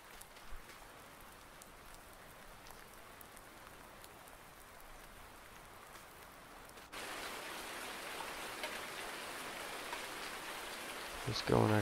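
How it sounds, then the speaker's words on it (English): Steady rain hisses throughout in Farming Simulator 19, growing noticeably heavier partway through, with a soft bump near the start and a brief clatter at the end. "Now we got some rain coming in"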